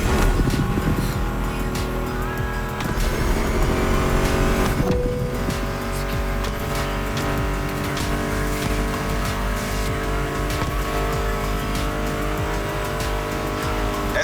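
Racing cars in the video game The Crew Motorfest roar and rev continuously, with shifting engine tones, tire squeal and cars sweeping past, all blended with a music soundtrack playing underneath.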